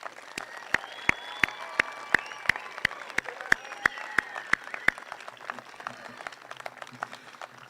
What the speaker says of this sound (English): please join me in applause once again for these graduates and their achievement tonight